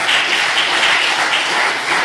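Steady, dense audience clapping at a church gathering, loud and sustained, with many hands blending into a continuous wash of applause and no speech over it.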